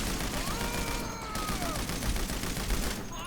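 Gunfire from a security guard in GTA 5 comes as dense, rattling bursts of rapid shots, fairly loud in a busy game mix, with faint whistling streaks.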